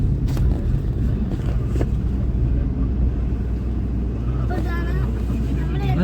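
A car pulling over to stop near the Thiruvanchikulam Mahadeva temple in Thrissur, heard from inside as a loud, steady engine drone and road rumble throughout, with faint voices briefly rising near the end.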